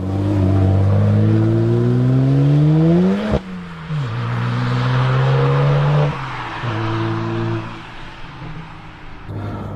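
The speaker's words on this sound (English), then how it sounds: "you start the engine, this fulminant sounding and fulminant performing N54 engine" A BMW 1M Coupe with the N54 engine revs up sharply, then drops to a burbling idle before rising in shorter revs, loud and close.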